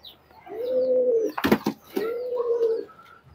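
A pair of teddy pigeon chicks, Pakistani teddy breed, coo up close in two drawn-out, even calls, with a brief burst of wing fluttering between them and no talk.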